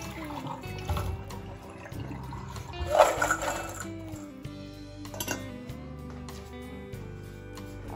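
Water poured off a bowl of freshly gathered chestnuts in a kitchen, a splashing, trickling pour with faint clinks of the container, loudest in a brief surge near the middle.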